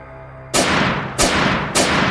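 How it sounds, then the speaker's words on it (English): Three loud, booming gunshots fired as a sound effect in a ghost-town audio drama, the first after a brief quiet hum and the next two following in quick succession, each with a long, decaying echo. "The ghost shots suddenly ring out."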